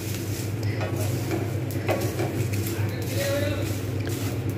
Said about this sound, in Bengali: বেশ কিছুক্ষণ আমাকে কিন্তু নাড়িয়ে যেতেই হবে, তলায় যেন না বসে যায়।